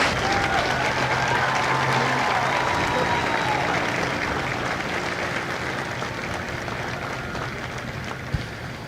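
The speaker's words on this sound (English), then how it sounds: "please join me in a round of applause for the company staff of Company C" A crowd at a Marine Corps recruit graduation ceremony at MCRD San Diego gives sustained, dense applause for the company staff. The clapping holds steady and loud throughout, with a faint voice or crowd murmur underneath.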